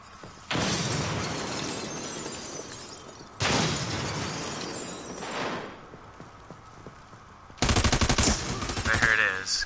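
Three loud shotgun blasts ring out in a PS4 shooter, each a sharp crack followed by a long ringing, crackling tail, spaced a few seconds apart, with the final shot harsher and more metallic.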